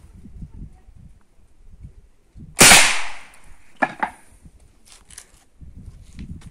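A modified 5.5mm air rifle converted for .22LR fires one sharp, loud shot at a hard peroba wood block with a soda can behind it, a crack followed by a brief impact, with quiet shuffling around it.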